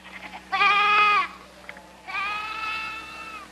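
Two long, wavering sheep bleats, close and clear, separated by a short pause against a quiet background.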